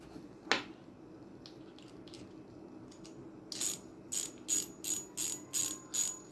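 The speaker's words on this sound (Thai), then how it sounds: "อ่าอันนี้เป็นเสียงจากตัวกิ๊กเสียงนะครับ" A Pioneer Black Spider BS-500 spinning reel's drag clicker ratchets in quick, rhythmic bursts, close and crisp, after a single sharp click and a quiet pause.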